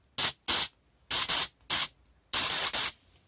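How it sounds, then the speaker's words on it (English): Aerosol spray can sprayed onto a car ignition switch on a Saab 9-5 (MY06), five short sharp hissing bursts with brief pauses between, close and loud with no talk. "I'm going to actually take it outside and spray it"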